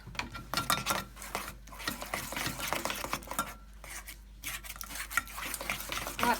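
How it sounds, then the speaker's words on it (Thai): A utensil stirs and whisks Japanese pizza batter of flour and water in a bowl, with quick scraping and tapping strokes that come in steady bursts with brief pauses, close and fairly quiet. "ตีผสมให้เข้ากันก่อน"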